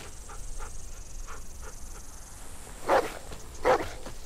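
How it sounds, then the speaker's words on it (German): In The Walking Dead video game, a dog gives a few soft distant yips, then two louder close barks. "Braver Hund."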